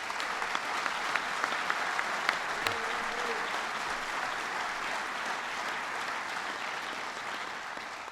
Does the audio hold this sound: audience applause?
yes